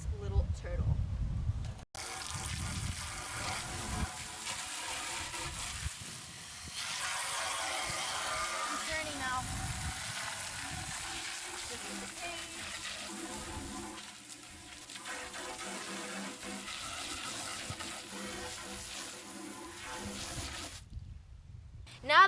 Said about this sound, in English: I'm gonna take this hose and I'm gonna rinse it out so this aquarium is nice and clean